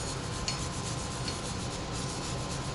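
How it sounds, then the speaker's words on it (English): A small wire brush scrubs a Toyota Camry brake hub clean during a brake replacement, making a steady, close, continuous scratchy rasp with no pauses and no talking. "Other option for cleaning, a little wire brush."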